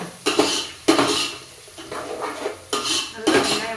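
Onions being stirred and sautéed in a metal pan while cooking vegetable biryani, with spoon-on-pan clatter coming in repeated bursts, close and fairly loud.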